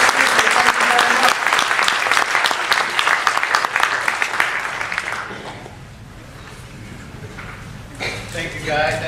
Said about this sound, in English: give a big round of applause for David Ellis